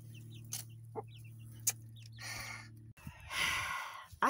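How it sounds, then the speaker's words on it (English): Chickens clucking close by on an off-grid homestead, scattered short clucks and squawks with a louder burst of flapping or scuffling near the end, over a steady low hum. "I just spent the last 30 minutes chasing chickens around."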